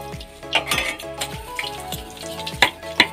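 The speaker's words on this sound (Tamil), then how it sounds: "இதில் வந்து இப்போ நெய் இங்கே சூடாகிட்டுருக்கு." Ghee heats and sizzles in a pan while Mysore pak is being made, a steady close frying crackle broken by clinks and scrapes of a utensil against the pan.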